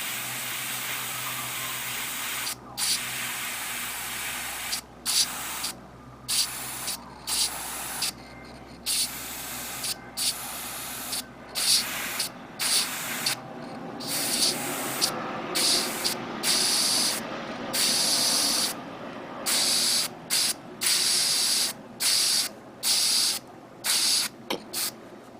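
A steady airbrush hiss sprays paint in repeated bursts on a 1/144 HG Gundam model kit, starting and stopping with brief gaps between passes, close and fairly quiet.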